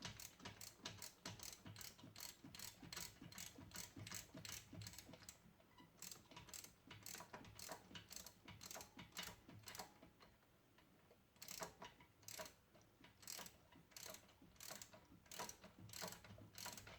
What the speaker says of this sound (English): we'll throw a ratchet on there